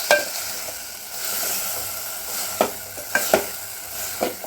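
A spoon stirs tamarind and gram flour into a ladies finger masala curry in a pan, giving soft scraping strokes with a few sharper clinks against the pan over a faint sizzling background.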